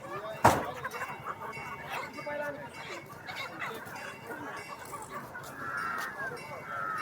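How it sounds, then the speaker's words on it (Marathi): Crossbreed roosters and hens cluck at a busy village poultry market, heard over a murmur of crowd chatter. One loud slam comes early, then the low bustle continues. "जास्त करून क्रॉसमध्येच इथं कोंबडे आपल्याला पाहायला मिळतात"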